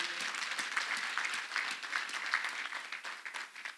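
A church congregation applauds a healing testimony with dense, continuous hand clapping that stays steady and close for several seconds, rising and falling slightly without a clear break.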